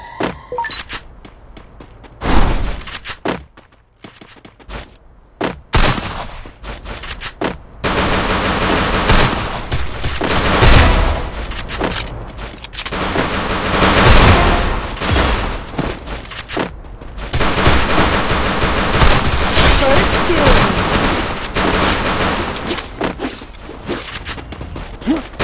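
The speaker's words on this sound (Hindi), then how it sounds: "आज हम सेस रेंज में M500 से खतरनाक वाले हेडशॉट मार के दिखाएंगे" Repeated M500 gunshots ring out in a shooting video game's practice range, loud sharp bursts spaced irregularly with quieter gaps, followed by denser stretches of continuous firing and game effects.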